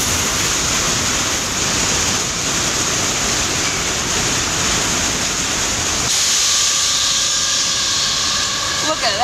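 Pneumatic tire scrubbers on a 2005 Ryko Softgloss XS2 car wash at an Arco gas station in Fife, WA, start up with thin, steady squealing tones over a loud, continuous hiss of spraying water that fills the whole stretch.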